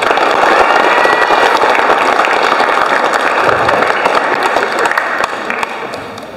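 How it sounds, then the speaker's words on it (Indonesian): A crowd at a primary school graduation ceremony claps for the graduating students in dense, loud, sustained applause that fades slightly toward the end, with a few scattered louder claps. "Boleh kita tepuk tangan untuk semua."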